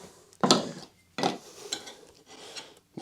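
Someone strokes a coarse file along a steel axe blade, making harsh rasping scrapes. Two strong strokes are followed by lighter, quicker ones, close and separated by short pauses.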